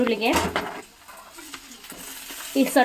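Onion and drumstick greens being stirred in a pan in a village kitchen, with light scraping and a soft sizzle; a short burst of utensil clatter near the start and end, fairly close.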